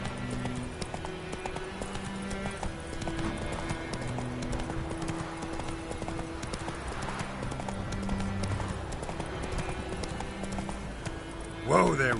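Horse Roach's hoofbeats from The Witcher 3 game, a steady clip-clop trot running throughout under background music, with a voice speaking briefly and a louder burst near the end.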